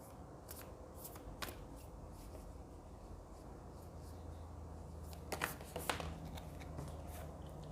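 Tarot cards being shuffled by hand produce faint, quick riffles and papery flutters in short bursts over a quiet room hiss, with a cluster of crisper snaps near the end and no talking.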